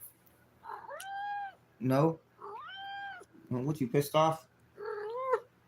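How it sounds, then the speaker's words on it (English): A house cat meows repeatedly, long drawn-out cries alternating with someone talking to it, the meows close and clear between his words. "That's my cat."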